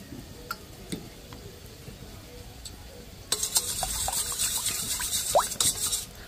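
Water poured from a measuring bowl, about one and a half bowlfuls, into a pan for a cabbage veg Manchurian sauce; a steady splashing pour starts halfway through after quiet kitchen clatter, with no talking.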